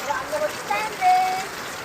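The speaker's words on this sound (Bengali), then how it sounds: "তো গাইস আজকে বৃষ্টির মধ্যে আমরা খাচ্ছি এখন" Rain falling outdoors makes a soft, steady hiss across a brief moment, with a few faint tonal chirps above it.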